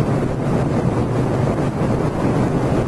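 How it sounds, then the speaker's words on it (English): Heavy headwind on a motorcycle ride, a loud, steady roar of buffeting wind against the microphone filling the whole clip with no break. "God, this wind's heavy today."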